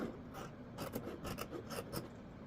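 Scissors cut through stacked layers of fabric for a sewn baby hat, a series of soft, raspy snips in an uneven rhythm, close by and fairly quiet.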